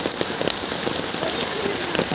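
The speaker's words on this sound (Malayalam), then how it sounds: "ഇപ്പം നല്ല മഴയുണ്ട് പുറത്തേക്കൊന്നും ഇറങ്ങാൻ വയ്യ" Heavy rain at Parassinikadavu, Kerala pattering steadily on a surface, with scattered sharper drops standing out against the dense, constant hiss.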